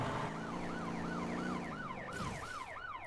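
A police-style siren wails in a repeating rising-and-falling pattern in the video game Motor Town: Behind the Wheel, loud and steady over a low engine rumble throughout.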